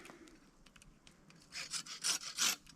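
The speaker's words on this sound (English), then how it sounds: "But I'm not going to need the stick to be that long, so we'll just trim that off." A wooden stick being trimmed with a small saw for a bushcraft basha clamp: a few light scrapes at first, then about five quick, rasping back-and-forth strokes, close and fairly quiet, with no talking.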